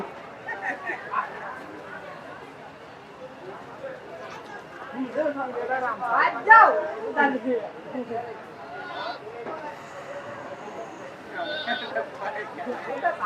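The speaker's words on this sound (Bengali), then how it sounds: "এখানে দুইটি ছাগল" Goats bleating at a busy cattle market in Nabiganj, Narayanganj, several wavering bleats rising over steady crowd chatter and a voice talking throughout, moderately close.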